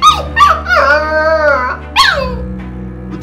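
A dog howls and yips in a series of drawn-out, whimpering cries with brief yelps. The calls are close and loud, with no talk over them.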